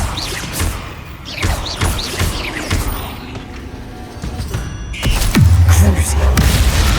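Confringo and Bombarda spells exploding in Hogwarts Legacy, a string of loud booming blasts and thuds that come in quick succession, with a heavier, deeper impact near the end.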